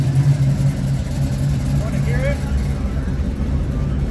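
Restored 1980 Chevy Camaro Z28 V8 with big cams, idling loud and steady with a deep, lumpy low rumble throughout, close to the car, with a voice speaking briefly partway through.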